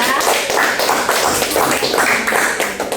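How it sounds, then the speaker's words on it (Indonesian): A classroom audience applauding a student group after a microteaching presentation, dense continuous clapping close and loud for the whole stretch. "Kita beri aplaus sekali lagi ya"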